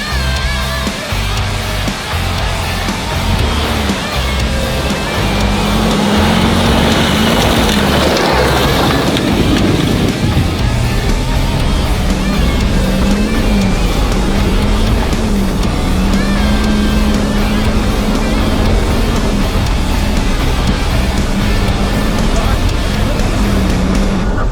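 A 4x4 off-road vehicle with an automatic gearbox races a Porsche 4x4 up a hill. A loud, steady engine roar mixes with wind buffeting, and the revs swell partway through.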